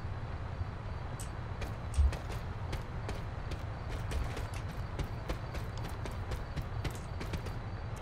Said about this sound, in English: You can hear footsteps for days in buildings like this.